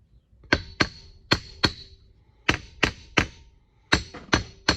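Sharp tapping on a shaft seal being seated into a hydraulic wheel motor: about ten crisp knocks in small clusters, close and fairly loud, with no voices over them.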